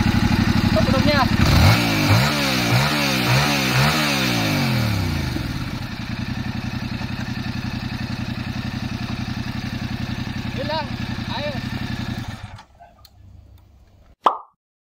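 A Yamaha R7 motorcycle with its stock exhaust, up close and loud, idling and revving in several rising and falling bursts before the engine cuts off, followed by a brief knock.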